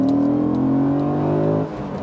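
Audi RS4 B7 saloon engine revving hard after a quick two- or three-gear downshift on a straight road, a loud sustained roar with rising harmonics that drops off near the end, no talking.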